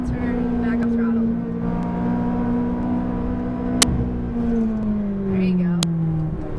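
A McLaren 570S engine hums at a steady, droning pitch around a race track, easing off and back onto the throttle with a slowly falling tone, accompanied by a couple of sharp clicks.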